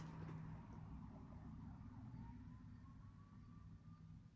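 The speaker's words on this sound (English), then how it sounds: "I hear sirens in the background" Emergency sirens from fire department and police vehicles wail faintly in the distance, a thin rising tone drifting over steady low background rumble.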